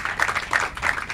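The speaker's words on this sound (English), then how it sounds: "How about a round of applause for Ms." Brief burst of applause and clapping for Matt Russell at a Kona breakfast interview event, a dense patter of hands rising and falling over about a second, moderately loud with no talk.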